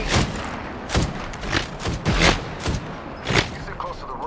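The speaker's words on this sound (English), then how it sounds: "They're shooting at me." Gunfire aimed at the player in the Apex Legends battle royale game, several loud, irregular shots and thuds spread across the moment, with speech-like game audio mixed in.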